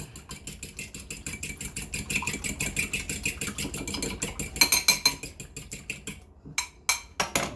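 Chocolate cake batter is beaten by hand in a bowl, giving a steady run of quick scraping, clinking strokes against the bowl, close and fairly loud, with a few sharper knocks near the end.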